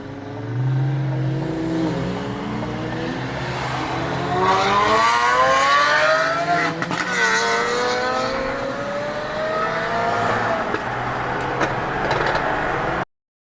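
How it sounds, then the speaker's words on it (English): Supercars and superbikes cruise together, including a Nissan R35 GT-R and a Lamborghini Aventador SVJ, with engines revving up and down in rising and falling sweeps over a constant loud road roar that cuts off abruptly at the end. "this is already one hell of a crazy cruise. We got Max right behind us in his R35"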